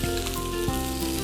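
Toasted shrimp paste frying in hot oil with other sambal ingredients, a steady close sizzle and crackle that continues evenly throughout without talk.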